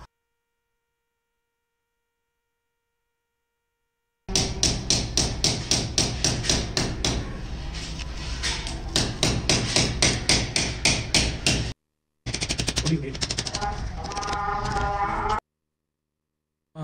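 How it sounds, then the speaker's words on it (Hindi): A hammer drives nails to fix a plastic wiring casing duct to a wall during casing-and-capping installation, with rapid, steady, loud close blows in two long runs separated by a brief pause and no talking. "मैं यहाँ पर कील की मदद से इस डक को यहाँ पर फिट कर"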